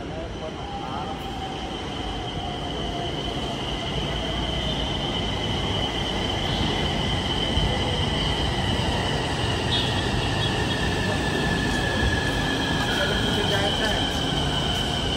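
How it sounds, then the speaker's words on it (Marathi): A steady rumbling hum of a metro train fills the space, with a faint high whine drifting through and muffled station noise behind it. "आम्ही मेट्रो स्टेशनवर आहोत. मेट्रो लागलेली आहे"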